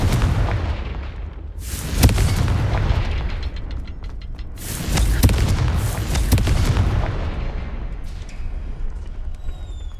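Confringo spell blasts in the video game Hogwarts Legacy, two heavy booming explosions a few seconds apart, each with a rumbling tail, followed by quieter magical shimmer.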